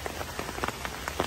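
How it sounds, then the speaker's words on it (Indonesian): Steady patter of light drizzle at a campsite on Mount Salak, a dense spray of small drops tapping surfaces close by, with no voices. "Dingin, hujan rintik-rintik walaupun nggak terlalu deras banget."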